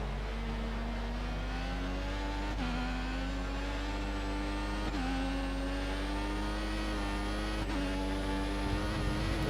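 Formula 1 race cars with Mercedes engines in the F1 2014 racing game, China round: a continuous, loud, high-pitched engine whine rising steadily through the gears, with sharp drops at each upshift roughly every two to three seconds.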